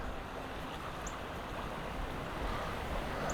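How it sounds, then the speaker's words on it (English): A small creek flows beneath the arches of a stone bridge along a walking trail, a soft, steady wash of running water with faint breezy noise and no voices. "Little stream creek that flows through the arches."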